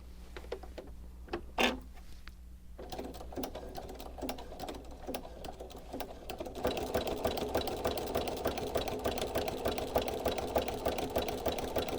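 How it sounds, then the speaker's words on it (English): Sewing machine stitching through fabric and quilt batting with a specialty presser foot, a steady rapid mechanical whir that starts in short bursts and then runs continuously and louder in the second half. "Now that my machine's all set, I'm ready to stitch."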